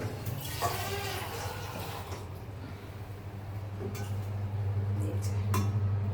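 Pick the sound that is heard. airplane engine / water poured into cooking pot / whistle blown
water poured into cooking pot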